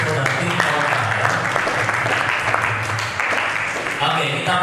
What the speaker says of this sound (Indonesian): Kita beri tepuk tangan dulu kepada tim pro dan tim kontra ya.